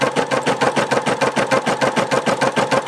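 A Brother embroidery machine stitches a straight line over a seam on a felt Christmas stocking appliqué, a rapid, even mechanical clatter of needle strokes, close and loud throughout.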